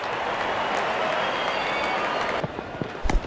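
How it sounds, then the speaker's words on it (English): Cricket crowd at a T20 World Cup semi-final between India and England cheering and applauding after a six, a steady dense roar of many voices with a few louder bursts near the end. "Crowd on their feet to cheer the moment."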